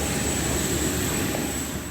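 Steady roar of an airplane's engines during boarding for a flight home from a Galatasaray–Beşiktaş derby in Istanbul, a continuous broad drone heard alone without talk.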